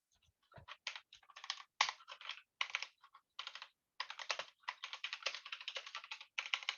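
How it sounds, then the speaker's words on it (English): Rapid typing on a computer keyboard, close and clear, with uneven bursts of clicking keystrokes and short pauses between runs. "But I'm typing in here."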